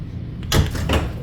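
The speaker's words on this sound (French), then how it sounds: "Toutes les portes marchent." Sliding doors on a new Germaine Tillion tram between Hauts du Chazal and gare Viotte open and shut, heard as two close, rushing mechanical bursts over a low hum from the vehicle.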